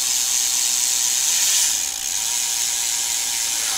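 Shadow Raptor rear hub freewheel on a BMX bike, a loud rapid continuous ratchet buzz from a spinning wheel, close and constant for several seconds without speech.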